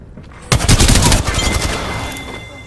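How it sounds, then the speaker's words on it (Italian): Gunfire from the Apex Legends video game breaks out suddenly after a brief quiet, a loud close burst of rapid shots that rattles on and slowly fades. "Mi stanno sparando."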